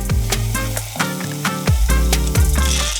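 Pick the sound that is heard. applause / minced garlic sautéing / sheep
minced garlic sautéing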